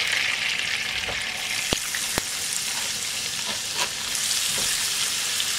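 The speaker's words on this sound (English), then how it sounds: "You can hear that sizzle." Potatoes for hash browns sizzle in hot oil in a covered pan, a steady dense crackle with a few sharper pops, close and alone with no talk.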